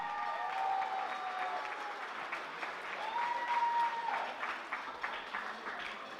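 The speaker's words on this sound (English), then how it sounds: "let's give a round of applause to the bride and groom, please." Wedding guests at a country club reception applaud the bride and groom, a steady wash of many hands clapping at moderate distance that holds for several seconds without easing off.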